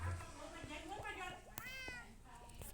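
A cat meows a few times in a video game, fairly faint, with speech underneath.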